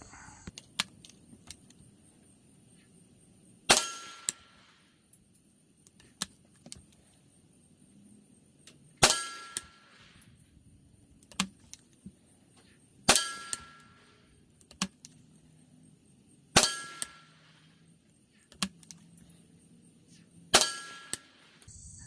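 High-velocity rifle rounds striking a steel gong target 100 yards out give five sharp, ringing metallic clangs spaced a few seconds apart, with fainter distant shot cracks between them over a quiet outdoor background.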